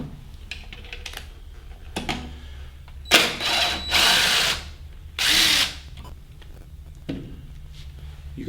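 A power drill removes screws from the actuator on a sewing workstation table leg, with three short whirring bursts amid lighter clicks and handling taps, close and loud.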